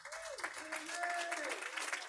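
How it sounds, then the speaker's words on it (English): Audience applause rings out at a celebration of life honoring Lady Cooke, a dense, steady patter of many hands with a voice sounding through it. "Let's give Lady a big round of applause."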